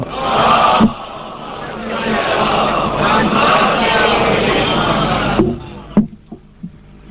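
A large congregation at a majlis recites salawat together in a loud, unified chant that swells for several seconds, then breaks off into scattered voices and knocks.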